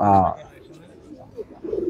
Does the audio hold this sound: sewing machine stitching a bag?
no